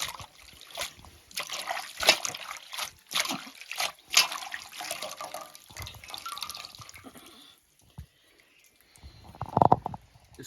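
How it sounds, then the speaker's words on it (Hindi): Dried bottle gourd being washed by hand in warm water, with wet sloshing, drips and trickles close by in a bursty, uneven rhythm, then a brief lull and a final splashy burst. "पहले इनको हम गर्म पानी से धो लेंगे अच्छे से"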